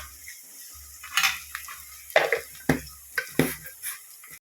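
A utensil scrapes and taps against a pan in short, irregular strokes as paste is sautéed, with soft sizzling underneath and no talking.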